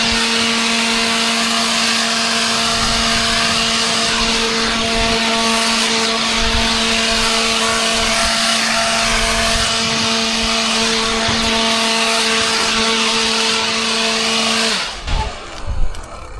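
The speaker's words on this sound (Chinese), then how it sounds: "上面有一些碎渣、脏东西，我拿鼓风机给它清理一下。" A leaf blower clears debris and dirt off a pile of wood, a loud, steady high-pitched engine whine running close for about fifteen seconds before cutting off into a few softer knocks.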